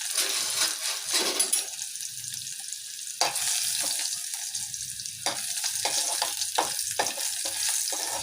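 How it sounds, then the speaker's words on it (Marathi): Crushed garlic cloves fry in hot oil with a sharp, close sizzle that flares in bursts as they are stirred, fading between spatters, with no talking. "तेल गरम झाल्यावर त्या 7-8 चेचलेल्या लसूण पाकळ्या आहेत त्या मी घालणार आहे"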